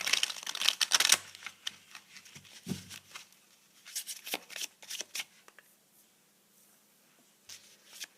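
Tarot-style cards are shuffled by hand for a card reading, with quick crisp riffling bursts and scattered soft shuffles up close, then a quiet pause before a few last flicks.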